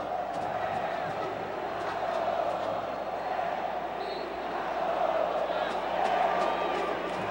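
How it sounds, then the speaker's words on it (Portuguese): Vasco supporters chant together in a packed stadium during a 2016 Carioca match against Flamengo, a broad, steady crowd roar swelling and easing throughout. "O torcedor do Vasco já solta um grito aí de eliminado"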